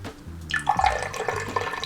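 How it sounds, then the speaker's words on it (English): Water pours from a tap into the side pot of a double boiler, starting after a short pause as a bright splashing stream that sounds close and steady. "then you're gonna fill the side pot with water"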